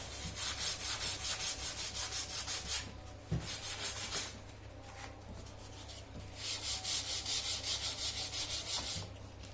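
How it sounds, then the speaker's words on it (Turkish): Steady back-and-forth scraping of sandpaper on splintery wood from a used canvas frame, rhythmic strokes in bursts with a brief pause, close and fairly loud. "Onları güzelce boyadan önce zımpara yapıyoruz"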